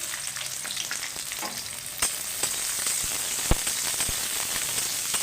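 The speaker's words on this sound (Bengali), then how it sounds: "হালকা লাল করে ভেজে নেব।" Chopped onions and green chillies fry in hot oil with a dense, crackling sizzle like steady rain, punctuated by a few sharp pops and light utensil taps.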